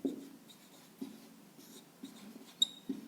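Chalk or marker taps and scratches on a board as numbers are written in ascending order, a series of short, faint strokes spaced about every half second in a quiet room.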